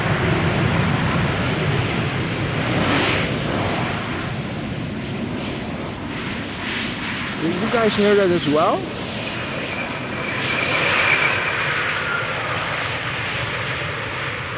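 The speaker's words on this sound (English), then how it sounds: "That sounded very much like reversers being applied. And of course squeaky brakes." A landing airliner at Amsterdam Schiphol Airport gives loud, roaring engine noise with rising reverse thrust and a brief high squeal of brakes, heard under talking.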